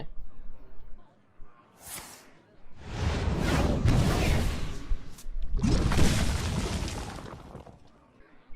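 Two long, roaring blasts of noise swell and fade one after another, explosions in Hearthstone, with a short whooshing burst before them and no talking.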